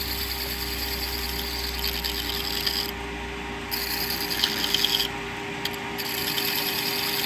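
A tool scrapes across the thin edge of spun metal during coarse cleanup on a metal-spinning lathe, producing rough rasping passes over a steady mechanical hum, close and fairly constant with brief breaks.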